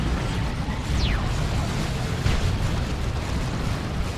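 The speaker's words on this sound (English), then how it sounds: "That's a good grenade." A grenade blast rumbles through Dawn of War 2 combat, a sustained low, roaring explosion over continuous battle din, with a couple of brief whooshing streaks cutting through it.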